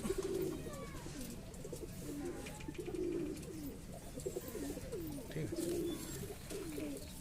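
Kalshera pigeons coo in repeated soft, throaty phrases, several birds calling close by over a steady low background hum.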